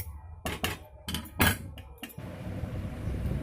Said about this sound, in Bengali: তো চলো এবার এটাকে ঠান্ডা করে আর প্লেটের মধ্যে ঢেলে নিই।